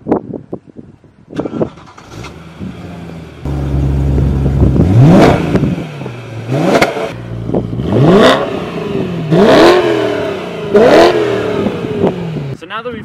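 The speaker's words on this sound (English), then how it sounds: "let's go to the back and get a mean exhaust clip." BMW E90 M3 V8 exhaust recorded from the rear, starting up and then revved hard several times in sharp bursts over a rumbling idle, loud and close, with brief talking at the start.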